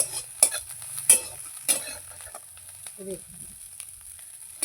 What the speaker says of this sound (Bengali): চিংড়ি মাছ আমার ভাজা হয়ে গেছে তুলে নেব